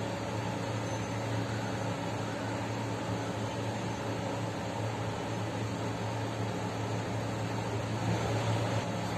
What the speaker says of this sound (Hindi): और ये जब फ्राई होता है, ये तल गया है अच्छा से हो गया